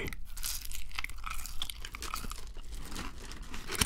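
Crunchy, crispy chewing of a Burger King fast-food feast, close and steady with repeated crackling bites and crinkles and no talking.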